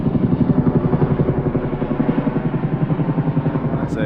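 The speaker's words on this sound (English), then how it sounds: "military helicopter, if I had to guess." A loud military helicopter passes overhead in a city neighbourhood at Christmas time, its rotor thumping in a fast, even rhythm throughout.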